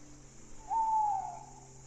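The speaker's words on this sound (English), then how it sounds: "the call of an owl echoing through the darkening woods" An owl hoots once from deep in darkening woods, a single drawn-out call that sounds faint and distant over a soft wash of wind, with no voices.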